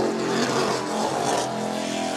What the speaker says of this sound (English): That engine sounds a little off. It sounds like it's just not quite at full song there.